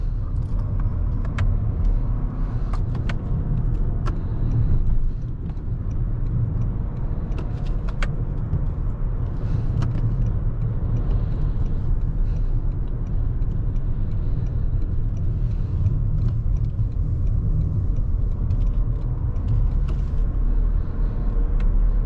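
Cabin of a 2024 Toyota Crown Platinum hybrid on the move: a steady, low road and drivetrain rumble, calm and even, with occasional small clicks and no talking.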